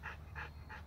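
Zoey, a heartworm-positive rescue dog from South Carolina, pants close by in three quick, even breaths within a second, nothing else sounding.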